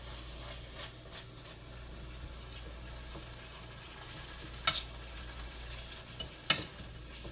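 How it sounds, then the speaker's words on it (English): A taco casserole made with canned biscuits being stirred in a pan, soft scraping over a faint sizzle, with a couple of sharper clinks of the spoon against the pan near the end, no talking. "now let me stir just a little bit"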